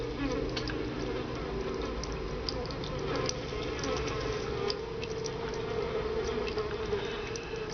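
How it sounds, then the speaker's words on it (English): Flies buzz steadily and continuously throughout a dark room in Vampire: The Masquerade – Bloodlines, with a dense, droning insect hum layered under faint background game ambience. "now I see why we're getting those fly buzzing noises"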